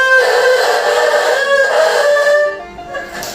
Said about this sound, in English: there's three reasons why students are making this really scratchy sound